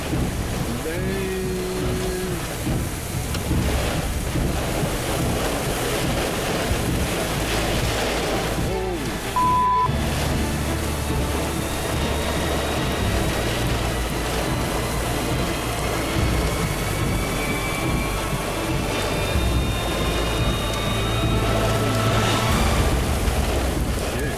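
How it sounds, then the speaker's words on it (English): Strong, steady wind gusting upwards of 70 miles per hour during a storm chase roars across the whole stretch, broadband and unbroken, with a gusty rumble buffeting the microphone and a brief dip midway. "Boy, those winds were intense."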